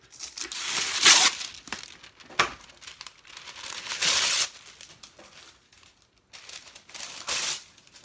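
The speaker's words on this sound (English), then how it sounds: "I would get a little bit of wax paper." Wax paper crinkles and crumples in several bursts while being handled for a card-stamping project, with bright rustling swells separated by quieter pauses and no talking.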